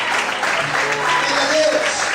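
A church congregation at an evening service claps steadily together, a dense, continuous patter mixed with voices and cheering.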